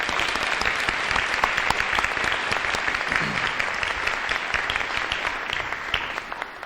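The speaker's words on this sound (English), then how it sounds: "Let's give these guys a big round of applause." An audience at a high school National Honor Society induction gives the inductees a big round of applause, loud, dense clapping that holds steady for several seconds and then begins to thin slightly.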